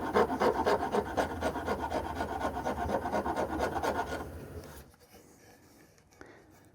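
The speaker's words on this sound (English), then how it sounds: "a coarse, round file works pretty well for getting in there and fine-tuning those transition areas" A coarse round file rasps rhythmically against a wooden cigar box guitar neck, fast loud strokes repeating for about four seconds before stopping into near quiet.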